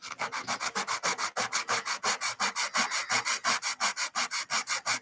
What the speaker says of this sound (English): Where's my sandpaper? I just had it.